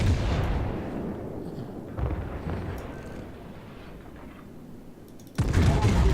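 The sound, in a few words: battleship Wyoming firing its guns in video game World of Warships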